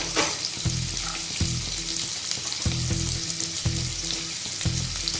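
Carrots and beans stir-fry in a hot pan for Schezwan egg fried rice, with a steady broadband sizzle and regular scraping stirs about every second, loud and close, with no talk.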